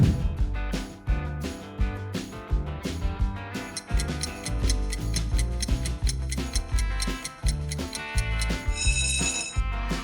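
HTC smartphone ringtone: a bright, crisp electronic melody of quick plucked and chiming notes over a steady rhythmic beat, loud and clean with no talking.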